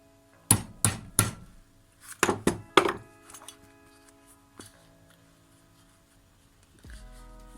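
A hammer strikes a rivet on a LARP box build: three sharp metallic blows, a short pause, then three more close and loud, followed by faint tapping and small clinks.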